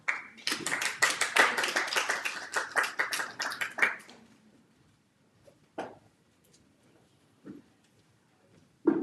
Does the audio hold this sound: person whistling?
no